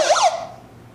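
A handheld road trip safety tool that doubles as a flashlight and strobe sounds its alarm: a loud, close electronic siren that rapidly warbles up and down in pitch, heard alone for about a second.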